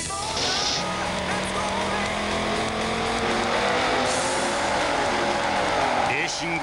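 Race cars in the Sega Saturn game Daytona USA roar at high speed with tire squeals, engine pitch sweeping up and down, loud and continuous beneath an excited announcer's voice.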